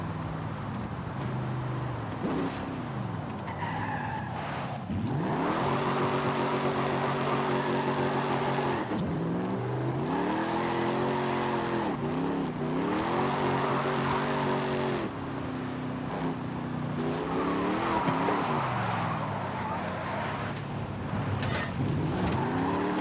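Engine roaring and tyres squealing through long drifts in a racing video game, played with a Logitech G29 wheel, shifter and handbrake; a loud continuous engine note rises and falls with sustained screeching slides, no talk.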